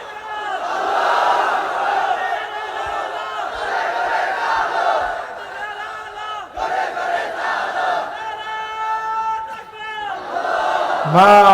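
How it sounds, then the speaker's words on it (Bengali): Assembled crowd at a Bangla religious sermon gathering chanting takbir in loud unison to welcome an arriving guest, repeated surging calls with brief gaps and a sharp voice cutting in at the end. "আমরা এই মেহমানের জন্য তাকবীর দিচ্ছি, লিল্লাহে তাকবীর"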